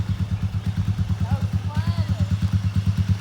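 A motorcycle idling close by with a steady, pulsing chug, while voices talk over it briefly in the middle.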